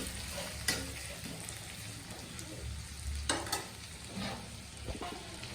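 Chopped onions sizzling in hot oil for prawn tusi, a steady soft crackle with occasional louder stirring scrapes and clinks, no talking.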